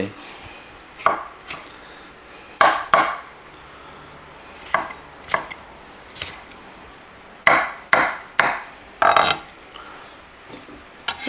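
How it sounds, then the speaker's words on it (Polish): Sharp knife strokes chopping vegetables on a board, coming in irregular bursts and single chops with short pauses between, close and clear. "Tylko pokroić te warzywa, a cóż to wielkiego pokroić takie warzywa."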